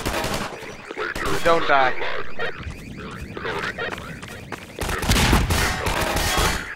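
Video game gunfire in Half-Life 2 co-op, with bursts of shots and explosions blending with excited voices talking over the action throughout.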